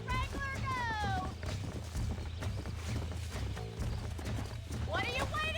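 Horse hooves clip-clop steadily with loud whinnies near the start and end, from horse wrangling in the Red Dead Redemption video game, mixed with game music and voices.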